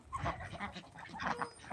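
Farm ducks quack and honk in quick, overlapping calls close by, a brief busy burst of several birds at once.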